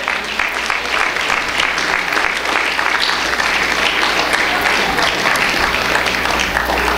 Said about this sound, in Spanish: ¿Cuánto le da un aplauso al cielo, hermano?